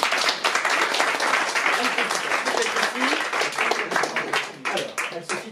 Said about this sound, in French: j'ai le plaisir de demander de venir à Anne-Sophie Alsif, qu'on peut applaudir.